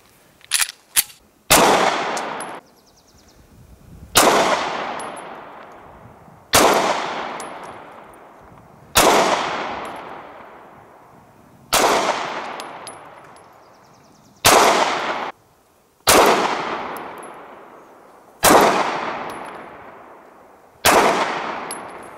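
Springfield Armory XDs 9mm pistol fired at a target, about ten sharp, loud shots spaced roughly two to three seconds apart, each with a ringing tail. A quick double shot opens the string.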